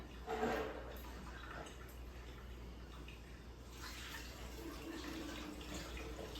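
Kombucha is poured into bottles for a second ferment, making a faint, steady liquid trickle with a slightly stronger splash near the start and no talking.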